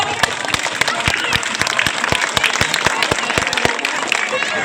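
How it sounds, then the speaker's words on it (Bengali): An audience at a Ganesh puja stage show applauds the performer Fulki, with steady, rhythmic clapping that stays loud and even throughout. "আবার একটা ফুলকি ম্যাডামের জন্য হাততালি হয়ে যায়"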